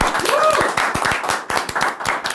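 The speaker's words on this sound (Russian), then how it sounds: "Аплодисменты, друзья, аплодисменты." A studio audience at a comedy battle game show claps for a winning team, quick crisp hand claps in an uneven rhythm, close and loud, with a host's voice briefly heard over the start.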